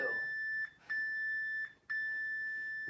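A workout timer sounds its final bell as a loud, high electronic tone, held then broken by two short gaps into three long beeps, close and clear over a quiet room.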